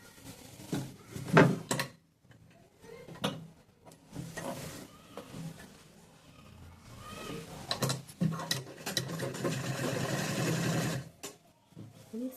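A sewing machine stitches lace onto a patiala pant in close, rattling runs. Short bursts come first, then a longer steady stretch, with pauses and handling clicks between.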